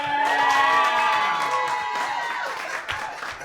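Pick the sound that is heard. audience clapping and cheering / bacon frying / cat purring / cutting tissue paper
audience clapping and cheering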